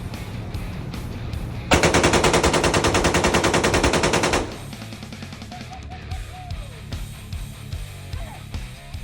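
Loud, continuous full-auto burst from an H&K UMP45 submachine gun, about three seconds of rapid-fire shots at roughly 600 rounds per minute, followed by quieter clinks and handling noise.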